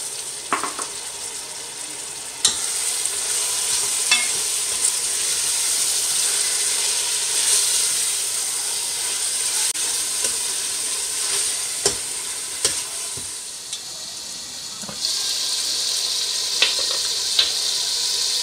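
Mutton and tomatoes fry in a karahi with a loud, continuous hiss and sizzle, broken now and then by the scrape and clack of a stirring spoon against the pan.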